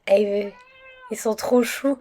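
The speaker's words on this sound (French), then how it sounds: "c'est le chat qui miaule après la machine à laver." A cat meows near a washing machine with a short, loud, tonal call at the start, followed by someone talking over faint background sounds.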